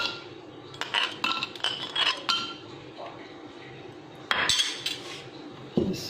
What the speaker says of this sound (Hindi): बर्फ़ के क्यूब डालेंगे।